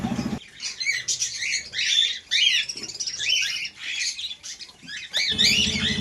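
Many small cockatiels and budgerigars chirp and squawk continuously nearby, a busy overlapping chatter of shrill calls with occasional wing flutters.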